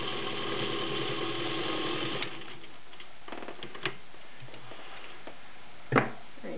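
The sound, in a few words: vintage Electro Grand Class 15 clone sewing machine sewing denim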